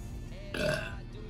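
A single short, close burp after eating beans during a flavored jelly bean challenge, a brief guttural gulp of air with no talking over it.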